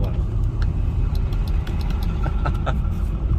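A Ford 6.0 Powerstroke diesel truck engine with a 12-inch exhaust tip runs on a dyno, a steady loud low rumble with faint rattling clicks over it, no talk.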